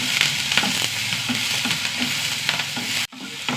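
Curry leaves and onions frying in a hot pan, a steady loud sizzle with spoon strokes scraping and stirring throughout before a brief break near the end.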